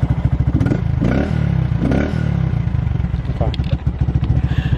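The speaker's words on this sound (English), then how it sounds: "Do the rev again." Honda Grom motorcycle engine idling with a rapid, even thump and then revved in short bursts that rise and fall, loud and close, with people talking over it.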